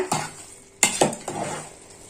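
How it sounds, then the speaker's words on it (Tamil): A spoon stirs rice from the bottom of a chicken biryani pot, giving three or four close metallic scrapes and clanks against the pot, with a faint sizzle underneath. "அரிசியை நல்லா கலக்கி விட்டுட்டு நல்லா அடியிலேருந்து கலக்குங்க"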